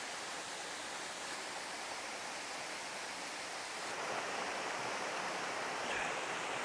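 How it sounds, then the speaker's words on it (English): Small waterfall roughly 20 feet tall on Koh Samui, Thailand, giving a steady, unbroken rush of falling water that holds an even level throughout and swells a little near the end, with no voices. "Even though it's not a giant waterfall, it's still beautiful."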